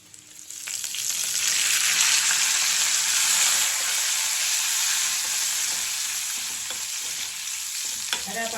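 Seasoning and curry leaves sizzle loudly in hot oil in a pan for a roti pachadi chutney, a dense continuous frying hiss with a few light clinks of a spoon, no talking.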